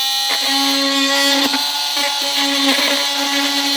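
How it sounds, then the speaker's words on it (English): An oscillating multi-tool trims a plastic car side panel during a hidden trailer hitch install, a loud steady high-pitched buzz with a few brief dips and catches as the blade bites. "I'll go ahead and use my multi-tool to get it trimmed out."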